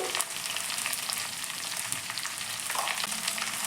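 Cut okra hits hot oil in a pan, giving a loud, steady crackling sizzle that carries through all the seconds with no one speaking.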